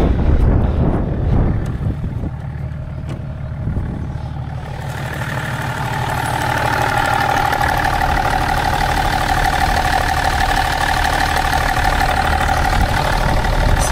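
A BMW diesel car engine idles steadily with a low rumbling throb, joined partway through by wind buffeting and a higher whine; no talking.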